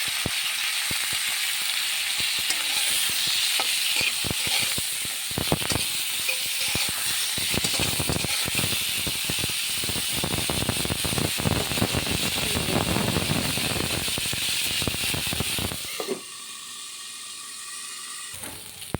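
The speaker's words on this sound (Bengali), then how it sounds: "ফুলকপি ভাজা হয়ে গেছে, এখন উঠিয়ে নেব। লাল করে ভেজে নিয়েছি।" Cauliflower pieces frying in hot oil until reddish-brown, giving a steady close hiss threaded with dense crackles and pops that drops to a softer, thinner sizzle near the end.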